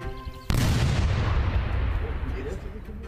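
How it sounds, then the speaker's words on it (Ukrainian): A vehicle packed with two tonnes of TNT explodes with a sudden massive blast that cuts off a faint tone, then rolls out into a long, loud, rumbling roar that slowly fades. "Але вона вибухає, не досягаючи цілі."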